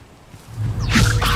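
A short magical whoosh rises into a bright swishing burst as the Levioso levitation spell is cast in Hogwarts Legacy on PS5, building quickly and ending loud.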